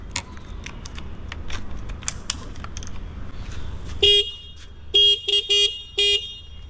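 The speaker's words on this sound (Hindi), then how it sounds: "मैं आपको हॉर्न दिखाता हूँ, सिंगल हॉर्न बज रहा है" A motorcycle horn honks five times in short bursts, the first alone and the rest in a quick uneven series, loud and close over a low background rumble; only one of its two horns is working.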